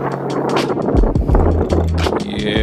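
The rebuilt 1.6-liter engine of an NA Mazda Miata runs under the open hood, a close, steady idle with a low throbbing hum and a few uneven rises in revs throughout.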